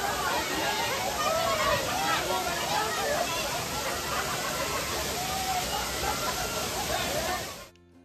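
A waterfall at Ramling temple in Yedshi pours with a steady, dense broadband roar, close and loud, holding constant for about seven and a half seconds before cutting off abruptly.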